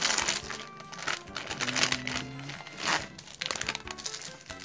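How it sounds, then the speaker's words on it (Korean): A package of instant jjolmyeon ramen is torn open up close, giving crinkly plastic rustling and sharp crackles in uneven bursts, fairly quiet with no talking. "진짜 쫄면 뜯어볼게요"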